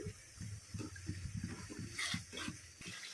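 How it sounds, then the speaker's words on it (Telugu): Water is poured into a bowl that held marinated drumstick biryani, a few seconds of splashing and trickling with a brighter pouring burst near the end, close by and moderately loud. "నేను అదే బౌల్లో కొంచెం వాటర్ యాడ్ చేశాను"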